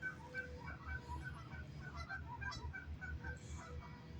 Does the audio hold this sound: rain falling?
no